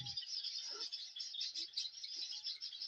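Java sparrows in a breeding colony chirp in a dense, continuous high twittering chorus, fairly faint and distant, with a few soft rustles and taps beneath.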